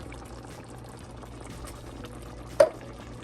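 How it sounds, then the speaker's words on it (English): Moqueca fish stew broth bubbles at a low boil while coconut milk is added, a soft continuous simmer with a brief louder splash near the end. "now that it's boiling, I'm gonna put in our coconut milk"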